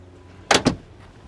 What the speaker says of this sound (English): I can't open the door the whole way because the fender.